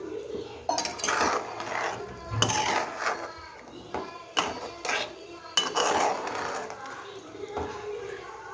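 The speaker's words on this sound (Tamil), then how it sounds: "இப்போ நம்ம சிக்கனை கிண்ட போகிறோம்." A spoon or spatula stirs pudina (mint) chicken in a metal pan, scraping and clinking against the pan in irregular bursts, with gaps between strokes.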